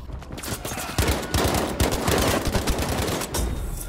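Rapid bursts of automatic gunfire in the video game Battlefield V, loud and dense, with overlapping shots rattling continuously throughout.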